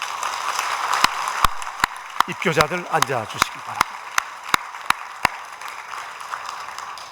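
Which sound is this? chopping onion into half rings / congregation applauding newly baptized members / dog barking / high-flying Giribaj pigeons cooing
congregation applauding newly baptized members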